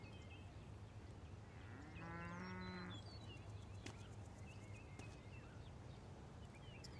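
A cow moos once in a farm scene from Storage Hunter Simulator, a single drawn-out call near the middle over a steady low background hum, with faint clicks and no talk.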